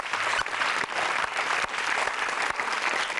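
A TV studio audience claps continuously, a dense steady wash of applause at moderate volume with a few louder individual claps standing out.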